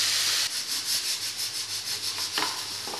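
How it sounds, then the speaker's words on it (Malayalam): Onions sauté in a pan, producing a continuous close hiss of sizzling with soft scraping as they are stirred and turned, steady throughout and without any voices. "നല്ല ഗോൾഡൻ ബ്രൗൺ കളറാകുന്നിടം വരെ വഴറ്റാം."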